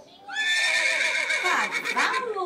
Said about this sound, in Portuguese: cavalo. Aqui tem cavalo.